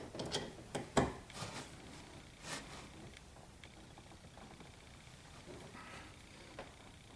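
Ratchet wrench tightening the bolt on a negative battery cable clamp on a C7 Corvette, a few quick clicking bursts up front, then faint intermittent clicks.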